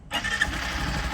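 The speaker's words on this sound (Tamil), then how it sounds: "நான் கீ ஸ்டார்ட் பண்ணுறேன். செல்ஃப் ஸ்டார்டர் தான், செல்ஃப் ஸ்டார்டரு." A Honda Shine DX 100cc motorcycle is started with its key-operated self-starter: after a split second of quiet, a short whir catches into the engine running, fairly soft and brief.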